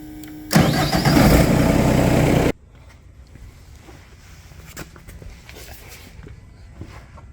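Engine of a hydraulic machine cranks and fires, a loud two-second starting burst that then drops to a quiet low idle with faint clatter.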